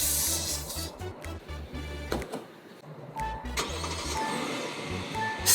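A 2023 Kia Telluride's engine starts up, a quiet cranking catch followed by a steady low idle hum and faint electronic chimes, close by with no talking.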